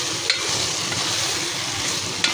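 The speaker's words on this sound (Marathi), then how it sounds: "परत एकजीव होईपर्यंत या मसाल्यामध्ये त्यांना मिक्स करायचं." Soybeans being stirred into a masala in a hot pan, with a continuous sizzle and a spoon scraping in short strokes. One or two sharper scrapes stand out, and no one speaks.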